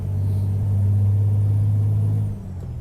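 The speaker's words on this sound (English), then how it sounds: "Listen to that engine roar. That sounds awesome." Custom Peterbilt 389 truck, its engine giving a loud, deep, steady low roar that holds for about two seconds before easing off, with no voices over it.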